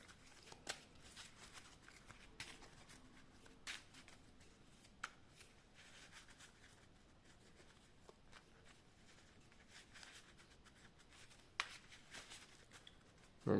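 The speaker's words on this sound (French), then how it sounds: "hop, je coupe, je cherche et je recoupe." A Yu-Gi-Oh trading card deck being cut and shuffled by hand, with soft riffling and scattered sharp card snaps, faint and close in a quiet room.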